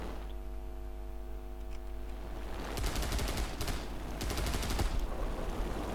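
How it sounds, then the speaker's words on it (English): Defensive aircraft machine guns rattle out rapid bursts in the War Thunder video game. Two loud sustained volleys of fire sit over a steady engine hum, and there is no talking. "these defensive machine guns sounds amazing"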